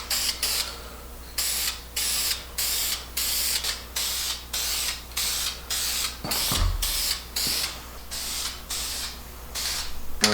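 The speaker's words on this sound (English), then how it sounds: "So now we're gonna add our matte clear coat." Spray gun applying matte clear coat over bed liner on van side panels, in a steady rhythm of hissing bursts with short pauses between passes, close and fairly loud, with a brief low thump near the middle.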